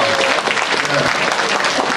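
Dense, steady applause from a large audience at a Korean political forum in a concert hall, filling the whole clip at close range with no pauses.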